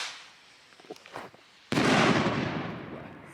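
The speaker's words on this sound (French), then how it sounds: "c'est comme des feux d'artifice, genre. Il y a une célébration de quoi de même qui se passe." Fireworks go off at a celebration in Cholula, Mexico. A few scattered pops and crackles are followed by a sudden loud burst of dense, rolling crackling that gradually fades.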